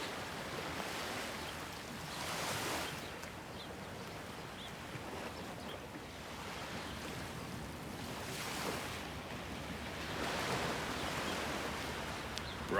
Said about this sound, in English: loves the water sounds